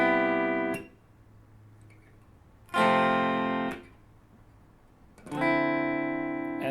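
Guitar strings slapped with the palm alone, giving three separate muted, percussive chord hits a couple of seconds apart, each ringing briefly before fading, with no voices.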